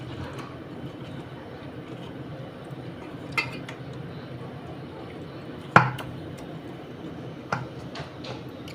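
Chicken being worked together with spices by hand in a dish, a soft, quiet rubbing and squelching with a few sharp clinks against the dish, no talking.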